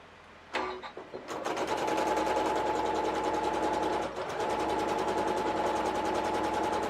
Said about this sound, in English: So we sew a little along the seams